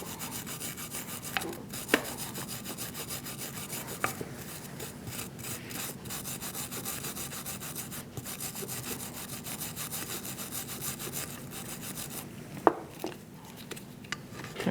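Steady scraping and scrubbing on 2008-2014 Mercedes-Benz C300 front brake parts, a close, continuous rasping rub with a few sharp knocks and clicks scattered through it.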